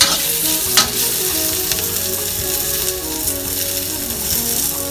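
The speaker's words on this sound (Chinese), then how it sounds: "那稍微煸炒一下，让它有个香味出来。" Pork sizzles and crackles while being stir-fried in a hot wok for red-braised pork, a steady loud frying hiss with scraping stirs throughout, no talking.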